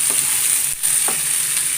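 Tapioca stir fry (kappa upperi) sizzles steadily in a pan while it is stirred, with a soft scrape or two of the spoon and a brief dip in the hiss partway through.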